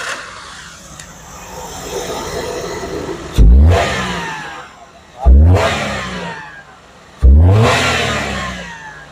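A Maruti Alto K10 engine idles, then revs sharply three times in succession, each rev rising loud and falling away.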